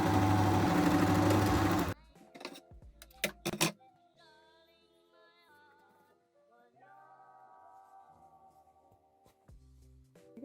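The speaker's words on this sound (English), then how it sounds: "We're just gonna fold it how we want it, and we're gonna serge along that edge." A serger sewing machine runs along a folded fabric edge in a loud, dense whir for two seconds, then stops, followed by a few clunks and a quiet electronic tone.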